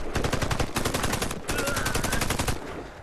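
Rapid automatic gunfire from the online shooter game Warface rattles in close, loud bursts, briefly breaking off before the rapid fire resumes and runs to the end.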